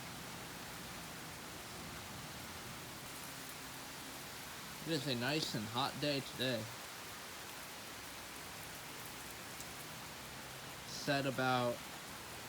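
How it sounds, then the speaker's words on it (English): Heavy afternoon thunderstorm rain falls steadily in waves, a soft even hiss of downpour throughout, while a person talks briefly twice over it. "coming in waves of rain"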